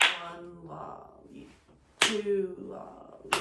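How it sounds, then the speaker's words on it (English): Two sharp hand claps of a rhythm clapped back, the first near the start and the second near the end, with a voice speaking counting syllables between them. "So if I were to clap back the first measure"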